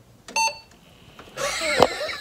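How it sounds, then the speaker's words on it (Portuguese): A retro 486 PC beeps once at power-on, a short bright tone near the start, followed by fan whir and rustling handling noise as the machine runs. "A máquina bipou."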